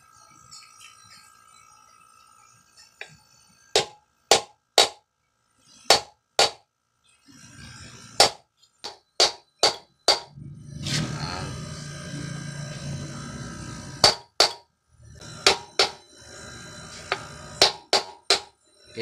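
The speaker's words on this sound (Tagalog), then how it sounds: "Saan natin siya pupupukin ng martilyo." Sharp metallic hammer strikes on an electric motor bearing ring out in irregular bursts, single blows and quick pairs, with a stretch of scraping and shuffling in between.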